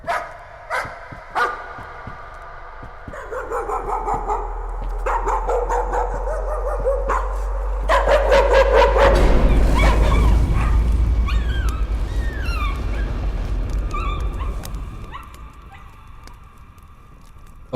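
Several dogs bark and yip in the horror game Layers of Fear, a rapid overlapping volley of loud barks over a low droning rumble, continuing in bursts before fading into eerie ambient sound.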